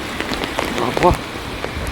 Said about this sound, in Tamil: பார்த்திங்கன்னா செம்ம மழை.